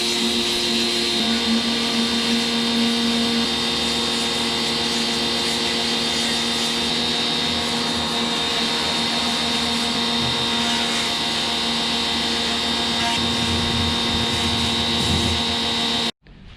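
A pressure washer sprays out the inside of a car fuel tank, a steady loud hissing drone that runs unbroken and close, then cuts off abruptly at the end.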